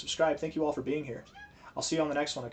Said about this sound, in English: That was my cat, if you heard him.